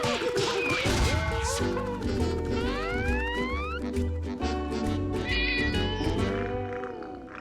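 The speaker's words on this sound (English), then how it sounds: "Hi, Gary. Meow?" A meowing cat-like call from Gary the snail in the SpongeBob Battle for Bikini Bottom video game, heard over a dense layer of game music with swooping tones and a few sound effects.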